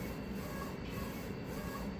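A 13-inch-wide DTF printer runs after sitting idle for 12 days, its steady mechanical whir carrying a regular pulse about twice a second as the print head sweeps back and forth.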